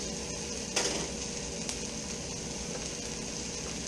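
Onions sizzling on a hot griddle for a Philly cheese steak, a steady close frying hiss with a couple of sharp scrape clicks from a spatula early on.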